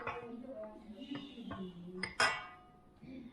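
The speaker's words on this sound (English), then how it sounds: "So we have our butter melted. We're just going to add it into here." Melted butter poured into a metal mixing bowl of sourdough discard dough for garlic pull-apart bread, heard as close clinks and scrapes of utensil against bowl building to a sharper clatter, with faint talk in the background.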